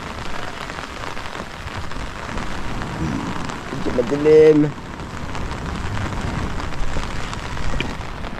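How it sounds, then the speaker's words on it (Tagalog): Heavy rain pouring steadily outdoors, a dense continuous hiss of drops on surfaces, with a brief spoken remark partway through. "sobra lakas ng ulan"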